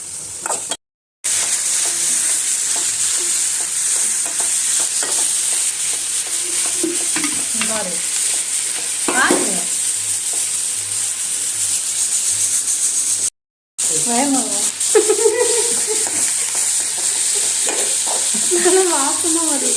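Fennel seeds, black pepper and cumin stir-fried in a hot pan, giving a steady sizzle broken by scraping spatula strokes, with two brief silent gaps.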